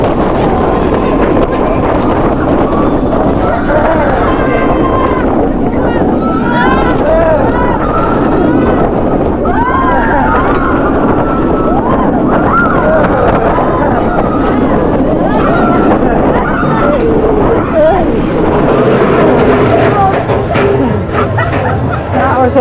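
A back-row ride on the Kondaa roller coaster at Walibi Belgium. Loud, constant wind rush and rumbling track roar run nonstop for over twenty seconds, with riders' screams and shouts mixed in close to the microphone.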